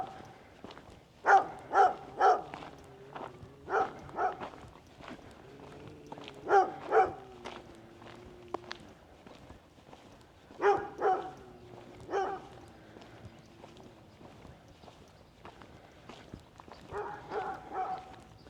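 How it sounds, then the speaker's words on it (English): A dog barks in a quiet small-town neighborhood on a sunny day in White Sulphur Springs, Montana, giving several bursts of two or three sharp barks spaced seconds apart. The barking is moderately near, with no talk over it. "Fussy dog."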